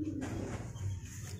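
A subscriber's pet dove from Purwokerto coos in low, soft repeated notes, close by, with no talking over it.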